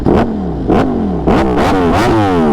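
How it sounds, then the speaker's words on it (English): A motorcycle's 1103cc V4 engine revs hard and close, in repeated loud blips that climb and fall, with the last rev held longest. "We get to listen to the glorious 1103cc V4. It literally shakes the bike."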